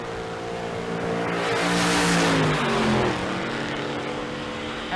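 A Buick Skylark drag car launches down the strip with a loud rising engine roar. The revs climb and swell past the listener, then fade away.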